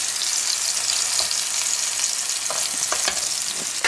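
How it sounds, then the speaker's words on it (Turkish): Mini tomato omelets fry in a pan with a loud, steady hiss of sizzling, broken by a few sharp crackles and pops near the end, with no talk. "Mini omletler pişmeye başladı."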